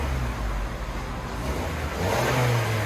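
A stock 2020 Toyota Corolla SE hatchback with a 2.0-litre four-cylinder revs close by, its exhaust holding a steady idle drone before rising into a louder rev near the end.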